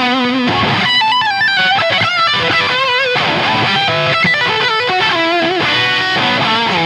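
Fast, heavily distorted playing on a Tom Anderson electric guitar, a dense, loud stream of sustained notes and bends with strings rubbing together, steady throughout with no talking.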